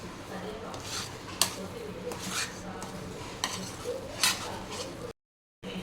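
A coconut sweet mixture with ghee is stirred in a pan, giving soft scraping and occasional metal taps of a spoon at an unhurried pace. The sounds are close but fairly quiet, with speech likely underneath and a brief dropout near the end.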